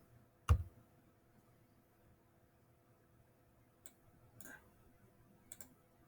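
Mouse or on-screen key clicks from a computer calculator during a math homework walkthrough: one sharp click, then a few fainter scattered clicks in a very quiet room.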